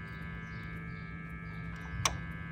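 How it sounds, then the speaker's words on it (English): A single sharp click from a vehicle's AC compressor clutch engaging stands out briefly over a steady low hum of the running engine bay, heard once near the end with no speech. "you should hear, if you're under the hood, the click from that AC compressor"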